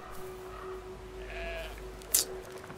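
Sheep in the video game Brothers: A Tale of Two Sons give a short bleat over a quiet steady hum, followed by a brief sharp clatter near the end, with no talking.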